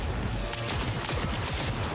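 Rapid gunfire in the Cyberpunk 2077 shooter game, dense repeated shots hammering continuously and loudly after a sharp onset at about half a second.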